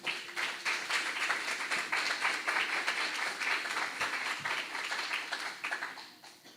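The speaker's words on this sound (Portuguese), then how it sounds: "Você pode aplaudir o Senhor por isso?" A church congregation claps together, a dense steady patter of many hands sustained for several seconds before tapering off at the end.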